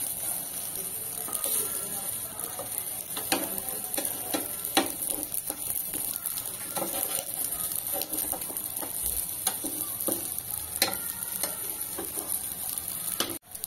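Potato patties for ragda pattice fry in a pan, with a steady low sizzle broken by scattered crackles and pops. The sound carries on evenly for the whole stretch and cuts off abruptly at the end.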